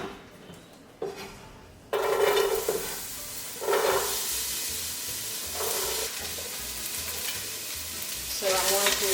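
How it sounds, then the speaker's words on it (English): Jalapeños and onions hitting hot olive oil in a pan set off a sudden loud sizzle after a quieter start, then a sustained crackle with periodic stirring scrapes close by. "I'm going to throw in my jalapenos and my onions."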